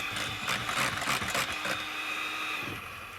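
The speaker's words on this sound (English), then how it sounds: "Well, we whisk it up like this." Meringue mixture whisked by hand in a bowl, giving a steady, close, brisk scraping and swishing with rhythmic strokes through the first half that then ease into a softer continuous rustle.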